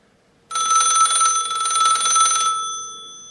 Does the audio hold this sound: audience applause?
no